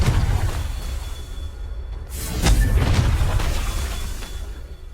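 A Confringo blasting spell explodes in the video game Hogwarts Legacy: a rumbling whoosh swells into a loud, rolling boom midway through, then slowly fades over low background noise, with no talking.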